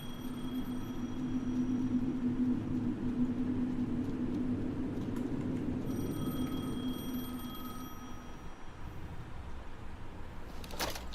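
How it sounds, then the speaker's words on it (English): A telephone rings in the video game Alan Wake 2, its electronic tone repeating in two bursts over a low ambient rumble, then stopping before a short clatter at the end. "The phone again."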